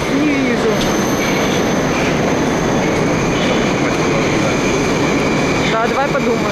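Moscow metro train running loud and steady, with a continuous rumble of wheels on rail and faint high squealing near the end, no talk.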